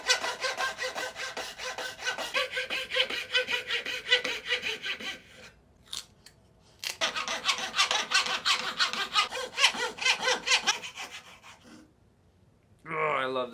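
A coping saw cuts wood in quick, rhythmic rasping strokes, close and clear, pausing briefly midway before resuming, with a short thud at the end.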